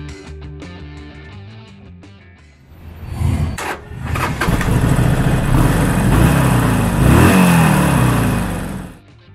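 A 2019 Harley-Davidson Sportster 1200 Forty-Eight with a 1200cc Evolution V-twin starts up after a few seconds, then idles and revs loudly with a rough, pulsing rumble until the end.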